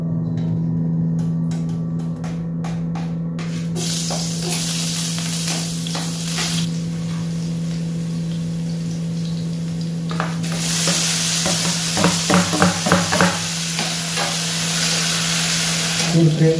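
Onions, tomatoes, garlic and chili fry in a wok-style pan for a salted tamban fish dish, a steady sizzle running throughout with stirring scrapes and a louder burst of frying near the end; no one speaks.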